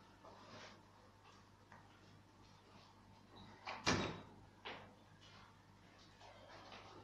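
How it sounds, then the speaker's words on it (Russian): An office door pushed shut, a single soft thud with a brief rattle near the middle, fairly close, amid quiet room tone with faint rustling and no talk. "Сейчас надо дверь закрыть."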